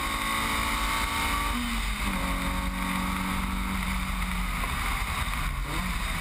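A Mazda MX-5 race car drives a wet track, heard onboard as a steady engine drone with a pitch that dips and holds through a corner, over constant wind and spray noise.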